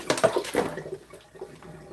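Beetroots being dropped into water to soak while juicing: a few splashes and sloshing liquid sounds at the start, fading into soft, quieter water movement, close by.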